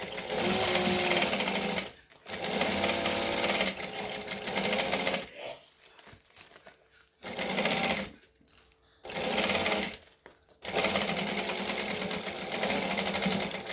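A sewing machine stitching a thick, many-layered Wonder Bag runs in several close, loud bursts of rapid whirring, separated by short pauses, with no talk.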